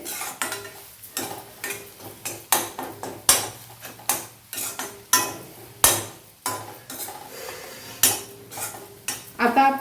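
A metal spoon scrapes and knocks rhythmically against a pan as dry coconut paste is sautéed with spices, giving loud, regular strikes about twice a second over a faint sizzle.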